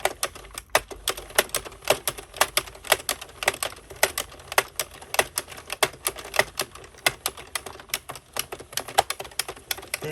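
Circular knitting machine cranked through rounds of yarn, giving a rapid, dense clatter of small plastic clicks at an even rhythm, close and fairly quiet, with no talking.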